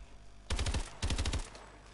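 Two rapid automatic bursts of gunfire from a gun in a PlayStation 4 video game, each about half a second of loud, fast repeated shots.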